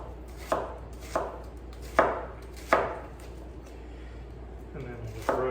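A knife chops through an onion on a cutting board, five or six sharp, evenly spaced thuds with a pause near the end, close and clear with no talk.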